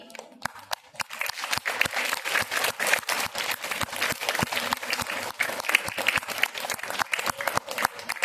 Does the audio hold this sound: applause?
yes